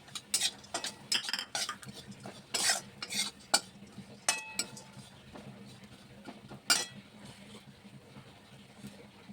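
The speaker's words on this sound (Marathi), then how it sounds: "ड्रायफ्रूट पण जरा तुपामध्ये थोडं चांगलं भाजून घेते" Dry fruits roasting in ghee while a spoon stirs and scrapes the pan, irregular metallic clinks and knocks over a faint low sizzle, close and intermittent, with no talking.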